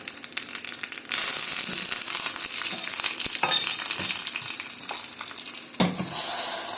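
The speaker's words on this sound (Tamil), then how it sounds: "கடுகு, உளுத்தம் பருப்பு, காஞ்ச மிளகாய், கொஞ்சம் ஒரு கைப்பிடி கருவேப்பிலை போட்டு தாளித்து அதில் ஊற்றிடலாம்." Mustard seeds, urad dal, dried chillies and curry leaves tempering in hot oil for a cluster bean kootu give a steady, close sizzle with stirring clinks. It surges loud after about a second and again near the end, and no one speaks.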